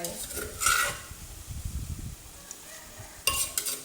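Crushed lemongrass, kaffir lime leaves, chili and garlic going into a pot of Thai chicken curry with wax gourd, a few clinks and scrapes with a soft stirring rustle and a brief sizzle, close and fairly quiet.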